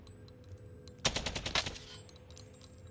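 AK rifle fired in a first-person shooter game: one loud burst of rapid automatic shots lasting about a second, standing out from quiet game ambience.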